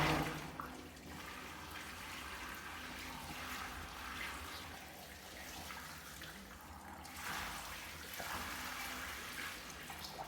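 A bucket of water poured down a shower drain after a baking soda and vinegar cleaning, a steady continuous rushing and gurgling wash that carries on evenly for about ten seconds, moderately close.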